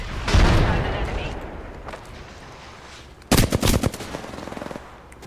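Automatic gunfire in Apex Legends during a duo match, loud rapid bursts of shots with a dense rattling volley in the second half, over game noise and a player talking.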